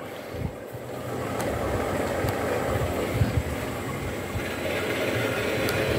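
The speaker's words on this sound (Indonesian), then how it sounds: "langsung kita langsir mundur untuk gerbong Pertamina-nya." A miniature train shunts backwards along rails in a workshop, a continuous low rolling rumble with faint, sparse clicks of wheels over the track.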